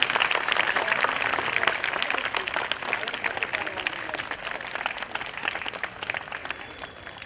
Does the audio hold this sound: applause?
yes